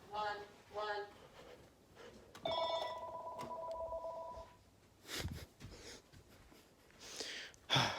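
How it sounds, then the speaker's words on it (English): A landline telephone rings indoors in the background, one sustained electronic ring lasting about two seconds in the middle, with short voiced sounds and breathy noises before and after it. "There's a phone call in the background"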